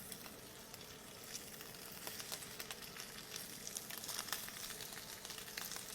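Scallops searing in a frying pan beside curry, a soft continuous sizzle scattered with small crackles and pops, fairly quiet and with no voice.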